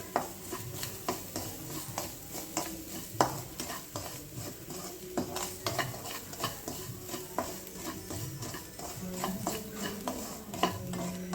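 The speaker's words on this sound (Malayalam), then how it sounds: "ചിരകിയ തേങ്ങ അതും കൂടി ഇട്ട് കൊടുത്ത് നമുക്ക് നന്നായിട്ടൊന്ന് വറുക്കാം" Grated coconut roasting in a pan, stirred steadily with repeated scraping and clinking of a spoon against the metal under a soft sizzle, close and fairly quiet, with no talk.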